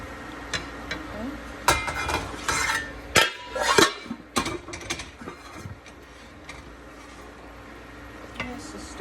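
A utensil clinks and scrapes against a pan while leeks, mushrooms and creamy vegan pasta are stirred, giving a run of sharp irregular knocks and taps that thin out into a quieter stretch before one last clink.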